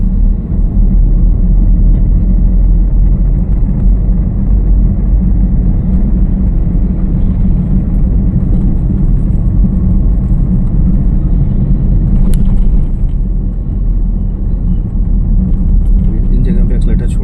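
Car engine hums as a learner drives during a lesson, a loud, steady low rumble and road whir throughout, with an instructor's voice talking over it.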